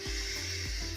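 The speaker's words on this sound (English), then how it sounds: "really blow it all out" A long, forceful exhale blown out through the mouth, a steady breathy rush lasting about a second over soft low tones.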